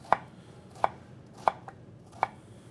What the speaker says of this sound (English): we're going to take these and actually cut them into strips